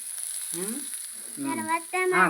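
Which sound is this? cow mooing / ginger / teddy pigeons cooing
ginger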